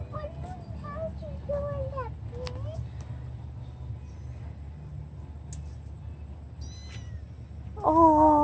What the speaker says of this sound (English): Oh, did you hear his little meow?